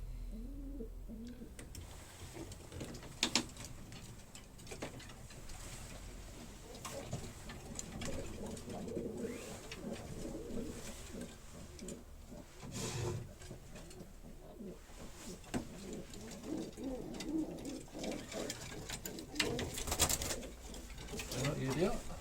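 Racing pigeons coo softly in a loft at season's end, murmuring throughout amid shuffling and faint rustle, with a person talking over them now and then.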